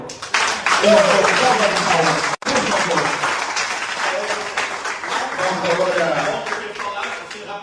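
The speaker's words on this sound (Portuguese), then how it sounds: "Vamos aplaudir, por favor." Audience applause rising loudly over a voice, with a brief dropout partway through, then continuing as a broad wash of clapping mixed with speech.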